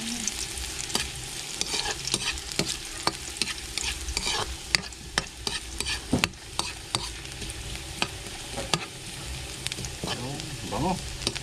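Ginger and garlic sizzling in a hot pan while stirred during outdoor cooking, a steady crackling fry broken by frequent scraping and clinking strokes of a utensil, with a brief voice near the end.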